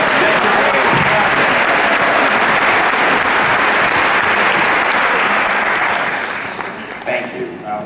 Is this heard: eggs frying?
no